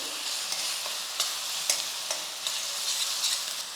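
Ginger garlic paste sizzles in hot oil while a spoon scrapes and stirs the pan with scattered clicks, steady and close.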